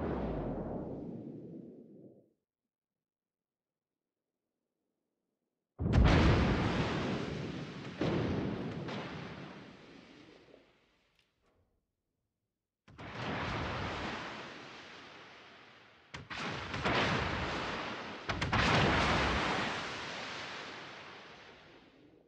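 Naval guns from the destroyer Shimakaze in World of Warships fire in several loud, rumbling broadside bursts separated by short silences, each blast decaying into a long roar.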